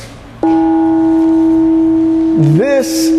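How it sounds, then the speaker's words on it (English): A sea-level chow gong struck once and left to ring, a loud sustained tone with steady overtones that holds for about two seconds before wavering and bending in pitch near the end. "this is called a sea-level chow gong. It resonates musically at sea level."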